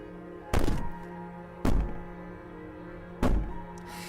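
Three heavy, booming bangs on a door in the horror video game Slay the Princess, spaced about a second apart, loud and close with short ringing decay over a low steady background hum.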